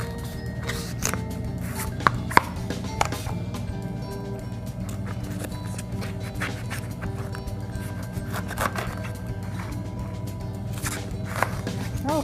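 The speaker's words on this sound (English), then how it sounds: "We're going to just cut this completely in half all the way through, and through the stem as well." A sharp knife cutting an artichoke in half through the stem, with faint crisp crunching and scattered cutting clicks over a soft background hum.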